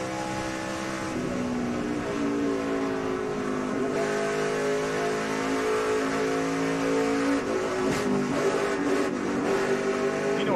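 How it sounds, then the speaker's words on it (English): Onboard audio from a NASCAR truck racing at Darlington in 2011, with a loud, sustained engine drone whose pitch rises and falls as the truck accelerates and lifts, close and continuous with no talk. "This is Nelson Piquet's onboard"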